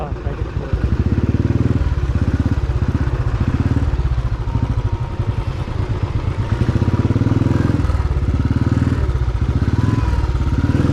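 A motorcycle riding along a highway, its engine droning in a steady loud rumble with rough mechanical clatter throughout, heard close as if from the rider's position, with wind buffeting the microphone.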